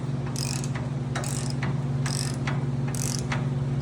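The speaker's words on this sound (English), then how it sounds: "We like to call this the clamshell ratchet strap method." A ratchet strap is cranked to compress car coil springs from about 19 inches toward 12, giving repeated clicking ratchet strokes in a steady rhythm, close and clear over a constant low mechanical hum.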